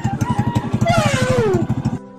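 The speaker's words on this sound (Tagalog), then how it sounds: "Ganyan, kalamig ang tunog ng kanyang makina guys." A Euro Keeway 125 motorcycle engine idles after an overhaul, a steady rapid low thumping pulse throughout, close and fairly loud, with a brief rising-then-falling whine over it before the sound cuts off near the end.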